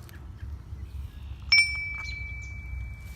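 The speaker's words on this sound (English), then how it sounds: "Ring the bell for the Buddha." A single small bell is struck once beside a roadside Buddha statue along a canal trail in upstate New York, giving a clear metallic ding that rings on and slowly fades over a quiet outdoor hum.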